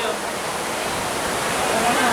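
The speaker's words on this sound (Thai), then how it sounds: "ตอนนี้อยู่ใต้น้ำตกอยู่" A waterfall heard from directly beneath it, a loud, constant, dense rush of falling water with no pause and no voices over it.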